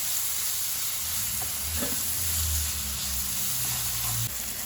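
Chopped onions fry in a pan for Goan beef croquettes, giving a steady, close sizzle and hiss that runs unbroken for the whole stretch with no talking.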